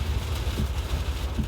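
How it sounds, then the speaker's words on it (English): Rain falls as a continuous dense hiss with a low rumbling undertone, steady and close with no voices. "it's probably hard to hear because it's raining"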